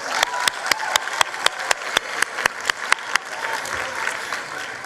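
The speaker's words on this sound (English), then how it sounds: "Another round of applause for KwaZulu-Natal." A crowd applauds, with a few sharp, loud claps standing out in a regular rhythm over softer scattered clapping.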